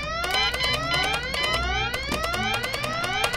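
An alarm blares in the video game Goodbye Deponia, a loud, steady electronic siren of rapid rising sweeps repeating without a break.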